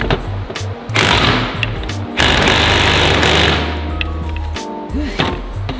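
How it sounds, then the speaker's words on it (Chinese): Electric hex impact driver hammering loose rusted front fork bolts on an old SYM Wolf 125 motorcycle, loud repeated rattling bursts in close succession with short pauses between, a voice speaking briefly near the end. "那这个时候就需要那六角的冲击 来助阵一下啦"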